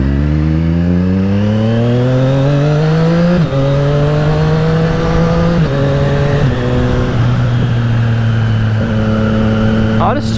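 Triumph Street Triple RS motorcycle with an aftermarket exhaust, revved on a dyno: a deep engine note climbs, then steps up and down through several sustained rev levels, loud and close, with a steady roar underneath.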